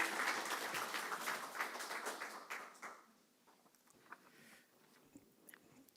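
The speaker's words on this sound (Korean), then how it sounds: "우리 사랑과 축복의 박수로 함께 맞이하겠습니다." Church youth group applause welcomes a teacher to the front after a mission trip, a lively burst of clapping that fades after about three seconds into scattered faint claps.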